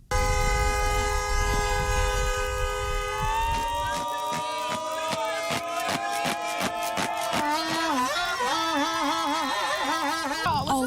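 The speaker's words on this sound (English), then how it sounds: "Passing drivers added to the excitement, honking horns in solidarity as they drove by" Passing drivers at a nighttime political rally sound sustained car horns, several overlapping tones blaring together, then a run of rapid repeated toots and warbling honks layered over one another, loud and continuous.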